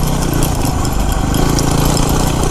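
Yamaha WR250R dirt bike climbing a sandy hill, its engine a steady, loud, close drone with a constant buzzing rumble and no pauses.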